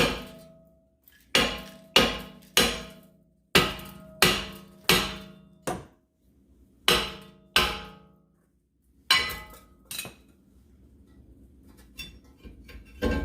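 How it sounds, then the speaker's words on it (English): Sharp metallic hammer blows strike a rusted brake rotor on a 2015 Chrysler Pacifica in a steady series, about a dozen clanging hits with ringing decay, close and loud, with brief pauses between bursts. "So I just take a hammer, start hitting the sides of it."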